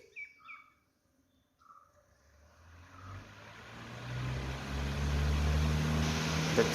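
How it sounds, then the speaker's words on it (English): A Crompton Trans Air 12-inch exhaust fan, two years in use, is switched on and spins up into a steadily rising whoosh and hum. Birds chirp faintly at the start before the airflow noise builds and covers them. "Let me turn on the fan."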